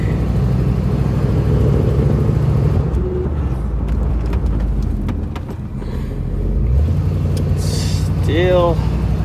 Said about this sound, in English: We're gonna go for a little cruise around the block.